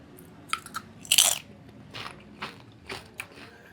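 Crisp crunches of oriental sausage flavored potato chips being bitten and chewed close up, a loud first bite followed by several softer, irregular chewing crunches.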